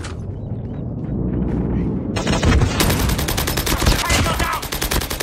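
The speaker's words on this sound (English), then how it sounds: "We have called in a strafe run." An aircraft strafe run in a military shooter, building from a low rumble into a sustained loud barrage of rapid, densely packed gunfire lasting several seconds, with game radio chatter around it.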